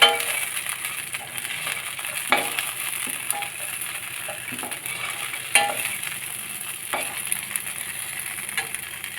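Chillies and onions sizzle steadily in a hot pan, with a few sharp scrapes and clinks as a spoon stirs them at irregular intervals, close and continuous with no talk.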